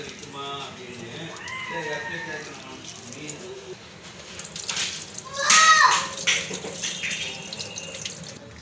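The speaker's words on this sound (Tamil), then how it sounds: "வாஷ் பண்ணிவிட்டு தண்ணி எல்லாத்தையும் ட்ரைன் பண்ணிடலாம்" Water runs and splashes as it drains from washed red poha (flattened rice), with a louder gush midway, while a voice talks over the first part.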